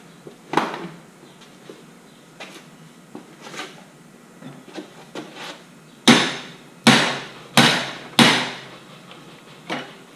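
A hammer pounds at the primary catalytic converters of a BMW M5 as they are gutted: scattered, softer metallic knocks, then four loud, sharp blows close together near the end, with no talking.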